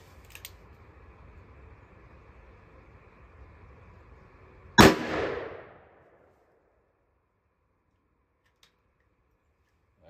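A .44 Magnum Sierra 240-grain JHC round is fired into a ballistic gel block. One loud, sharp shot cracks mid-clip and decays briefly, after a low steady hum, then near silence follows.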